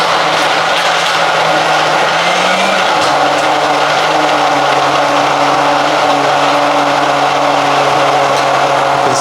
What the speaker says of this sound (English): we're going to start the blender by clicking it over to number 1, letting it blend for a bit